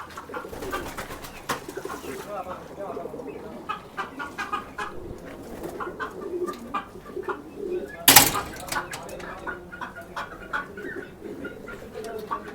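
Chickens and ducks in a coop, with steady overlapping clucks and coos from birds nearby and a brief louder burst partway through.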